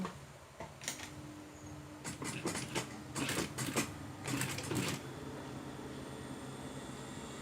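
A sewing machine stitching a once-folded, rolled hem on sagging fabric, running in several short bursts of rapid needle chatter that stop and start, fairly quiet against a steady background hum.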